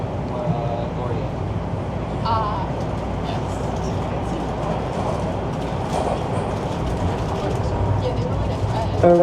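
A Toronto Line 1 subway train rumbles steadily into Queen Station, with a continuous low roar, rattling and brief tonal chimes, while a recorded announcement voice speaks over it.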